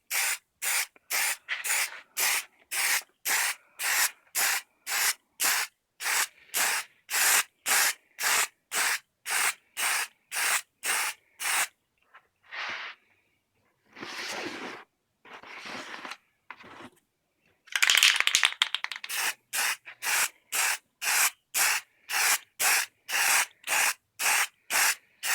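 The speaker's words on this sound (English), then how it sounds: "Go ahead and lacquer this in the same manner as the other one." Aerosol lacquer sprayed onto a homemade action figure base with a textured vinyl cutout, coming as a long run of short, regular close bursts, a brief pause, a few longer blasts, then more steady quick pulses.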